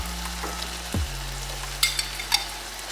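Jerk-seasoned ground beef frying in a pan gives a steady sizzle throughout, with a brief clatter near the start and a couple of sharper stirring scrapes later on.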